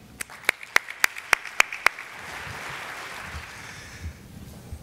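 Audience applause welcoming speaker Tony Helton, opening with a few sharp separate claps that quickly swell into a broad wash of clapping from a crowd, moderately distant and sustained.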